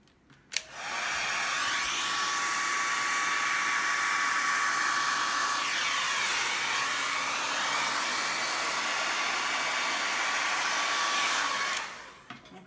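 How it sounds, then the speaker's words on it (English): A blow dryer runs steadily at close range over a freshly poured acrylic paint canvas, switching on sharply and holding a constant whooshing hum with a faint tonal whine for about eleven seconds before cutting off. "In the blow dryer."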